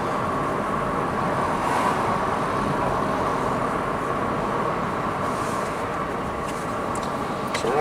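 A small car with about 49,870 miles on it drives along a road, giving a steady, close engine and tire rumble with road noise that holds evenly from start to finish.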